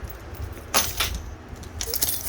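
A ring of keys jangles close by in two short, bright bursts of metallic clinking over a low background rumble, with no voices.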